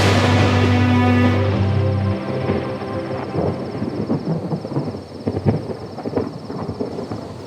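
Thunder rumbles as rain approaches, a loud rolling low roar at first that gives way to crackling, patter-like noise and distant rumbles.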